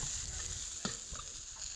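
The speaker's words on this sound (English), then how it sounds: "So just frying off our veg there." Vegetables sizzle and crackle steadily in a hot wok over an open campfire, with a brief clatter of stirring partway through.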